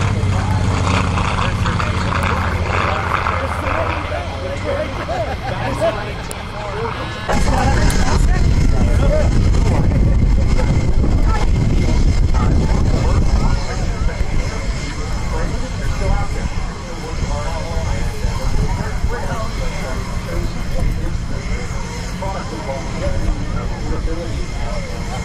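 A Twin Beech aircraft flies past at the Columbus air show, a loud continuous engine drone that swells sharply partway through and stays heavy amid outdoor crowd noise.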